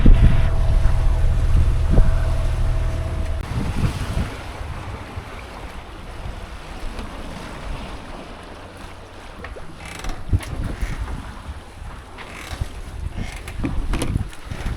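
A sailboat moves under sail off the rugged western coast of Kefalonia, with gusting wind buffeting the microphone, water washing along the hull and occasional rigging clanks and knocks.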